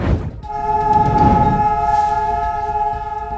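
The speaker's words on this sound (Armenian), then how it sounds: "Իսրայելում հնչել է օդային ազդանշան" An air raid siren in Israel, sounded for a two-minute nationwide standstill, holds a loud, steady, sustained tone that fills the clip after a brief rumble at the start.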